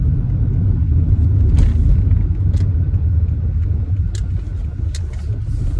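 Car driving as it pulls up to a car wash, heard from inside as a loud, steady low road rumble with a few faint clicks and knocks, and no talk.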